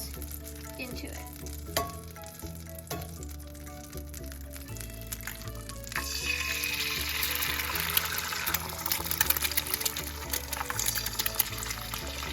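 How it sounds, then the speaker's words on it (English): Four eggs cracked into a hot pan for a complete breakfast, a steady broadband sizzle building strongly after a few seconds of quieter clinks and stirring, frying loudly and continuously to the end with no voices. "we're going to crack 4 eggs into it"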